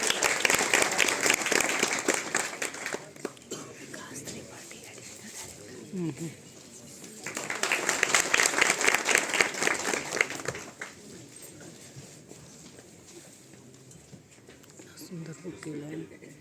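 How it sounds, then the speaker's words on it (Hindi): Loud applause for a retiring deputy director at a retirement party, in two strong bursts of clapping separated by quieter stretches where people talk. "तो ऐसे हमारे सर के लिए जोरदार तालियां"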